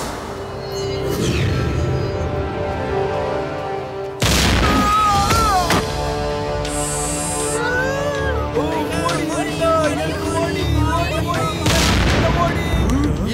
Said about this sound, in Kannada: ಈ ಬ್ಲಾಸ್ಟ್ ಆಗಿರೋ ಶಬ್ದ ಎಲ್ಲಿಂದ ಬರ್ತಿದೆ?